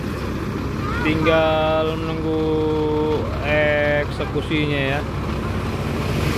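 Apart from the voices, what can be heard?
stuck trailer truck engine running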